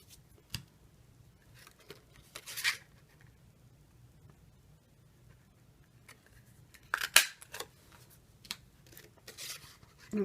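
A craft punch pressing a flower shape out of purple cardstock: a few sharp crunchy clicks and paper rustles, spaced apart over near silence, with no speech.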